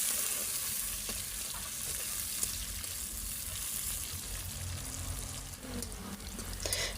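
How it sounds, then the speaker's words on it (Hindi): Three medium onions frying in oil left over from frying pakoras, a dense continuous hiss and crackle heard close up, with faint stirring and no speech. "प्याज मैंने डाल दिए इसी ऑयल के अंदर, जिसके अंदर मैंने पकौड़े फ्राई किए थे।"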